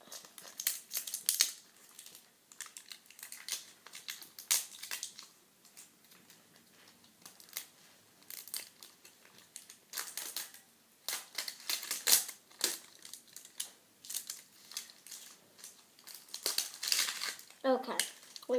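Paper crinkles and tears as a package is opened, crisp rustling bursts scattered throughout at close range under soft talk.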